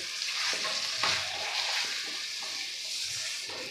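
Okra and potato coated in gram flour sizzle in a pan while being stirred, a soft steady frying hiss broken by occasional scraping strokes of a spoon, close and fairly quiet.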